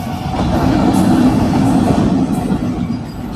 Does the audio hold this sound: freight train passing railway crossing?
yes